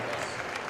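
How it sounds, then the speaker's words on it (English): Basketball arena crowd at a college game between Ball State and NIU on senior night, applauding a player with a dense, steady roar of clapping. "Lacey James getting a loud round of applause"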